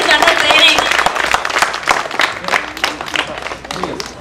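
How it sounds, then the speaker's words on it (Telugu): An audience at a children's awards ceremony breaks into applause for a young boy, dense clapping that starts loud and thins into scattered claps, with voices mixed in. "give him a big round of applause"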